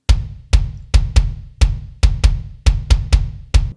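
Three layered kick drum samples hit together as one punchy, booming drum, struck eleven times in a steady, slightly uneven rhythm, each hit decaying fast, with no other sound.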